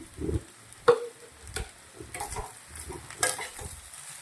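Vegetable pulao rice with green peas being stirred and mixed in a pot, soft scraping and spoon knocks with a faint sizzle underneath, close and fairly quiet, no voices.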